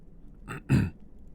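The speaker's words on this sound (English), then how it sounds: "then had to clear my throat" A short, close throat clearing: a quick soft rasp followed by a louder, deeper grunt, then quiet.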